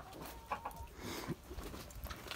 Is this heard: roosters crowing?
yes